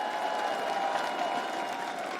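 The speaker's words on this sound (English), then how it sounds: "Give yourselves a round of applause" Applause from the audience at a Rainbow Six Siege esports LAN final in Charlotte, a dense, steady wash of clapping and crowd noise from a large hall, moderately loud throughout.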